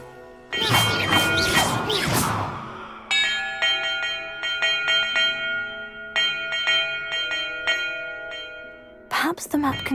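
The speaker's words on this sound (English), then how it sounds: "Perhaps the map contains clues about the order I'm supposed to ring the bells in." Bells ring out in Hogwarts Legacy, opening with loud crashing and whooshing. Clear metallic tolls follow in a steady series, some struck together, then a burst of noise at the end.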